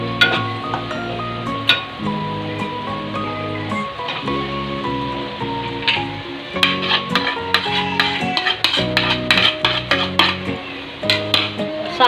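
Poha with roasted peanuts stirred in a pan over cooked onion and tomato, giving steady scraping and soft clinks of a spoon against metal, close and continuous under faint background music.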